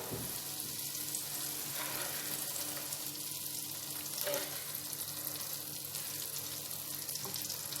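Butter (kibe), 100 grams, melting in a pan and giving off a steady, close sizzle and gentle crackle throughout, with faint clinks now and then and no talk.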